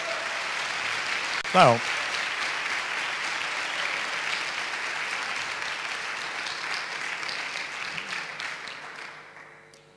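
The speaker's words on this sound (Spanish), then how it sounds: "Le vamos a dedicar un aplauso, si os parece," Audience applause for teachers at an education event, a dense steady wash of clapping that runs the full length and tapers off at the end, with a brief spoken word near the start.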